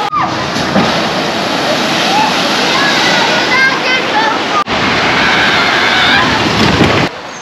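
A bathtub-shaped log flume boat at the Tripsdrill theme park splashes through water in a loud, continuous rush of churning, sloshing spray. Voices can be heard underneath.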